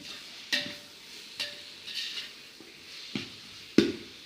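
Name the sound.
stirring salted onions in a pot for chicken biryani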